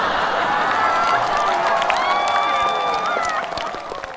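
A studio audience at a Chinese stand-up comedy show bursts into loud, sustained applause mixed with cheering and high whoops, filling the room steadily for several seconds before easing slightly at the end.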